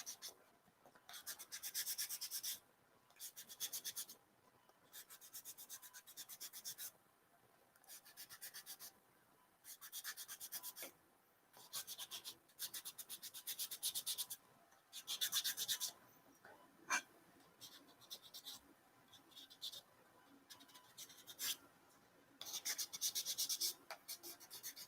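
A cosplay Clone Wars Jedi comm-link prop being sanded by hand, giving repeated bursts of close, dry rasping strokes separated by short pauses, with no talking.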